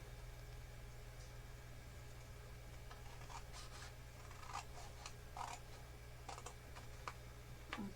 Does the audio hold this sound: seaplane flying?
no